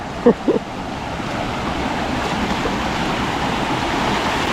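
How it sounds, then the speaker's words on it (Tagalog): A strong river current rushes in a steady, loud broadband roar that fills the whole stretch, with two short voice-like sounds near the start. "Grabe ng agos yan."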